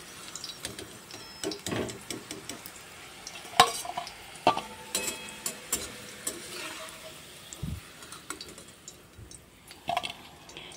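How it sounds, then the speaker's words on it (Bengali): Bitter gourd pieces fry in oil and are stirred in a pan, giving a soft sizzle broken by scattered scrapes and clinks of utensil against cookware, fairly quiet and close. "তো আমি করলাগুলোকে সুন্দর করে একটু ভেজে নামিয়ে নেব।"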